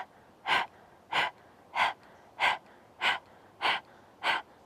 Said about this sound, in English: So just start panting like a dog,